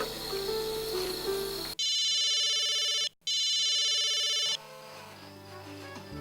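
An outgoing phone call rings back in two loud, steady electronic ringtone bursts with a short gap between them. Music plays before and after the rings, with no talk.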